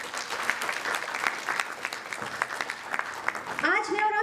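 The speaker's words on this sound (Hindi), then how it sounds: "आप उनके लिए तालियां बजा सकते हैं।" An audience applauds at a televised cultural programme, clapping in a steady, dense patter for several seconds before a bright musical flourish cuts in at the end.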